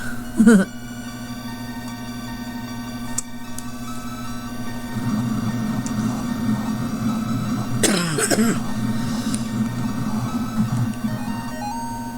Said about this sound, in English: Having a bit of a coughing fit here